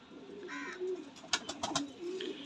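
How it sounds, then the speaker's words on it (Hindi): Soft low cooing of a pair of chapra pigeons in a murmuring rhythm, with a few sharper clicks and rustles partway through; no talking. "चिड़े चपरे जो कबूतर होते हैं ये वो है"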